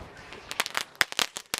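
A Kurkure firecracker bursts during a Diwali cricket game played with crackers, sending a quick, close series of sharp crackling pops over barely a second and a half.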